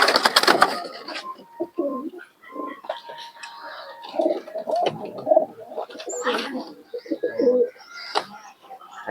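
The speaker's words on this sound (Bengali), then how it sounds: "দেখুন এগুলো সবই বাংলাদেশ থেকে কালেকশন করা কবুতর।" Bangladeshi pigeons in a loft setup, repeated close soft coos and rustling wing and body sounds, with quiet whispered talk mixed in.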